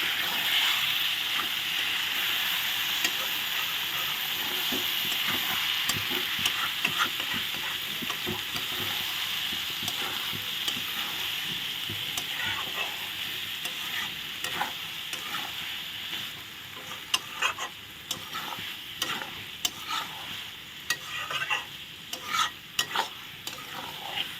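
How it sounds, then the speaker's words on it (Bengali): Soybean chunks fry in hot oil as a spoon stirs them steadily, giving a continuous close sizzle with scraping strokes that grow more pronounced and clustered toward the end. "চারদিক থেকে তেল বের হওয়া শুরু হয়েছে দেখো সয়াবিন কষাতে এখন আর একটু নেড়ে দিচ্ছি"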